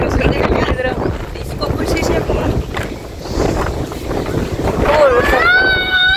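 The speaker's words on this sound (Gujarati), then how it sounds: "વાવાઝોડું શરૂ થઈ ગયું" Strong windstorm gusts roaring over an open rural field ahead of rain, loud and continuous buffeting across the whole stretch, with a voice talking over it near the end.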